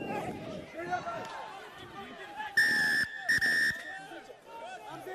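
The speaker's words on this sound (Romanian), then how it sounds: "Vine fluierul" A referee's whistle at a football match cuts in with two loud, sharp blasts in quick succession, each lasting about half a second, over crowd noise and a commentator talking.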